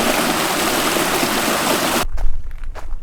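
A forest stream on the Appalachian Trail in Maine's 100 Mile Wilderness rushes in a loud, steady wash of flowing water that cuts off abruptly after two seconds, leaving faint low rumbles and quiet background.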